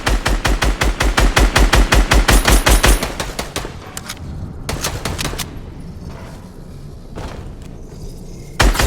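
Rapid, loud automatic gunfire from a firefight in the video game Fortnite, a dense rattling burst for about three seconds, then scattered single shots and short volleys against a noisy background.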